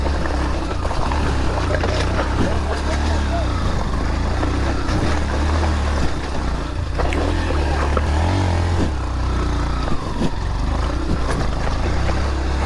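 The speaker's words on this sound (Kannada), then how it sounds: "ಬ್ರೋ ಮೇಲಕ್ಕೆ ಹೋಗುತ್ತಾಳೆ ಬೈಕು" A motorcycle grinds up a steep off-road climb toward Bolumalai fort, its engine droning loud and continuous with rough, shifting revs and rattling over uneven ground.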